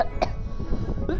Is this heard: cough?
yes